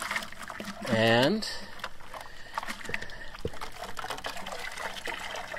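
A car wash mitt is rinsed in a bucket of water during a hand wash, giving a brief close slosh and trickle while someone talks over it.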